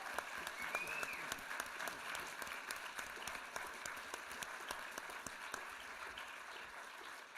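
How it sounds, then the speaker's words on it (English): Sustained applause from a conference audience honouring a plenary panel on sustainable jobs and communities, an even, faint-to-moderate roar of many hands with a few sharper claps standing out. "Can we give them a really good round of applause?"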